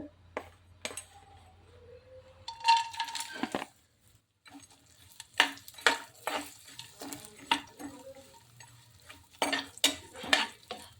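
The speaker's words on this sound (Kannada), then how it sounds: "ಮೊದಲೇ ಡ್ರೈ ಫ್ರೂಟ್ ಒಂದು ಸ್ವಲ್ಪ ತುಪ್ಪದಲ್ಲಿ ನಾವು ಹುರಿಕೊಳ್ಳೋದು ನೋಡ್ರಿ" A utensil scrapes and clinks against a pan as dry fruits are stirred and roasted in hot ghee for carrot halwa, with a soft sizzle beneath the irregular, fairly quiet strokes.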